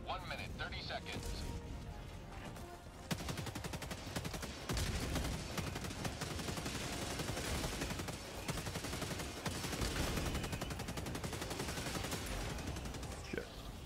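Bursts of automatic gunfire in Helldivers 2, rapid dense rattling volleys running almost continuously and fairly faint, mixed with a quiet voice in the background.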